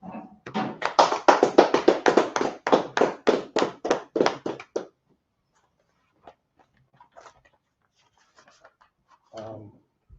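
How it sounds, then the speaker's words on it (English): A church congregation claps together in a fast, steady rhythm for about four seconds, loud and close, then breaks off into near silence with a few scattered faint knocks and a brief murmur. "All right, clap it up."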